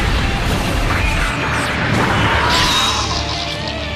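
An explosion in an animated Power Rangers versus Voltron battle bursts as a loud, dense broadband boom and crash that rumbles on throughout with no letup.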